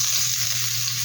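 Garlic sautés in a pan for chicken adobo with a loud, steady sizzle and a low hum underneath, no voices.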